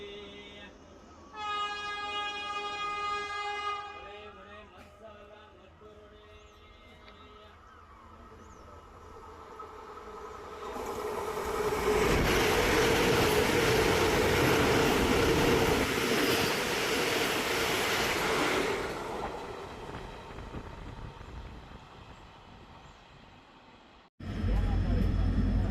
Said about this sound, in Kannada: KSR ಬೆಂಗಳೂರಿಂದ ಧಾರವಾಡಕ್ಕೆ ಹೋಗೋ ವಂದೇ ಭಾರತ್ ಎಕ್ಸ್ಪ್ರೆಸ್ ಓವರ್ಟೇಕಿಂಗ್